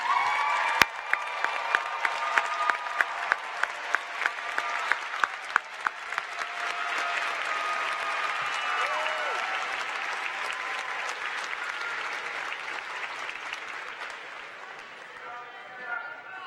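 A large audience at a Cal Poly university commencement ceremony claps for the graduates, a long, dense, sustained roar of applause with a few sharp, close claps early on that slowly tapers off, with voices murmuring near the end.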